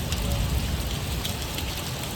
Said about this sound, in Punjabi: ਲੋ ਜੀ ਇੱਥੇ ਬਾਰਿਸ਼ ਵੀ ਸਟਾਰਟ ਹੋ ਗਈ ਹੈ